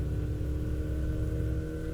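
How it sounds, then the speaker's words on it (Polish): A car engine running in a Minecraft mod video game, a steady mid-pitched motor hum with a constant tone, close and even throughout, with no voices. "Słyszycie zresztą silnik."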